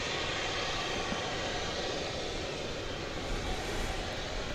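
A plane comes in at DFW Airport on the flight from Grand Junction, a steady broadband roar of jet engine noise holding throughout, distant but constant, with no voices over it.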